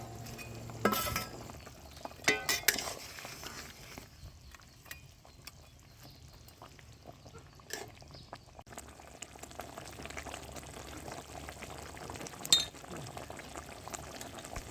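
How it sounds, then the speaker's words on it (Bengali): Fish curry gravy (maacher jhal) bubbles away in a pan on the stove, a soft, steady simmer with a few brief clinks and clatters early on. "ঝোলটা ফুটে উঠেছে, আমি এবার ভেজে রাখা মাছগুলো দিয়ে দেব।"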